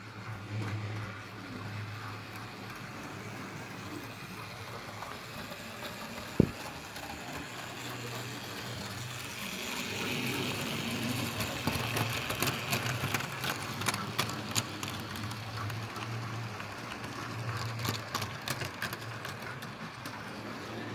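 A Bachmann J72 model locomotive runs around a layout with a faint, steady mechanical hum and light rattling. A single sharp click sounds partway through, and the running grows slightly busier toward the end.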